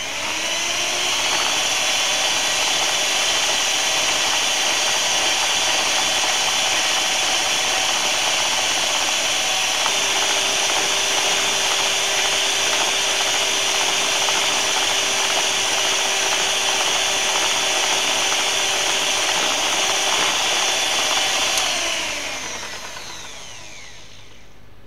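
A kitchen mixer whirs continuously at increased speed, a bright steady whine with a faint tonal line joining partway, then spins down and stops near the end.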